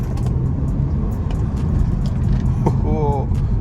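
A BMW 320i M Sport engine accelerates on the road, a loud low drone heard from inside the car that holds for the whole stretch. A short higher tone near the end is probably a voice or a chime.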